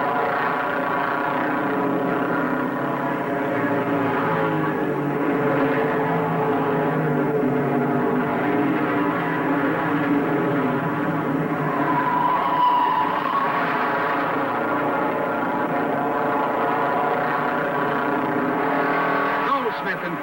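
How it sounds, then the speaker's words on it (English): Several 1958 stock cars, including a Pontiac and a Ford, race at Daytona Beach, their engines a steady, loud, continuous roar that holds level for the whole stretch, with a slight swell as cars pass near. "Goldsmith in Pontiac number 3 is first, and driving hard into second is Curtis Turner in Ford number 26"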